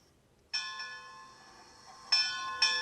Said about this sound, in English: And there's our bell.